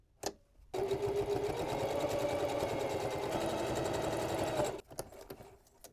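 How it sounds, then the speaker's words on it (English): A sewing machine topstitches along a folded fabric edge on a drawstring gift tote in one steady run of about four seconds, a close, even motor whir with rapid needle clatter, framed by brief quiet handling sounds. "Now I can top stitch along this lower fold."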